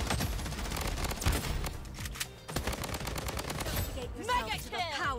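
AK rifle gunfire in the video game Bloodstrike: rapid automatic bursts, loud and close, mixed with other distant shots and game effects, ending with whooshing sounds.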